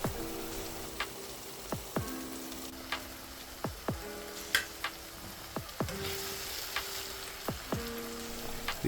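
A meaty pasta sauce cooks down in a pan with a gentle, continuous simmer, broken by small bubbling pops that land about once a second, close and fairly quiet.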